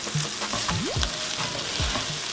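Ham and shrimp curry fried rice is stirred up from the bottom of a hot pan, with a constant sizzle broken by several quick scraping and clacking strokes of the utensil.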